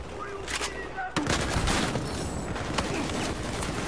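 Rapid bursts of automatic gunfire in the first-person shooter Battlefield 4 crack close and loud, with sharp repeated shots layered over dense battle noise.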